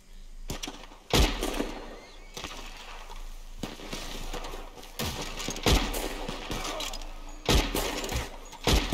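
Gunshots ring out in a bounty hunter shootout, a string of loud sharp cracks spaced irregularly over several seconds, each trailing a brief echo over a low rumbling background.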